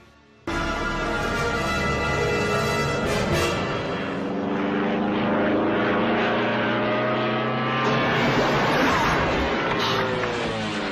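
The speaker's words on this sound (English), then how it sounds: "So they land the plane in the water" A propeller plane drones loudly and steadily as it flies low and touches down on water, the engine sound shifting in pitch, with splashing hiss building toward the end.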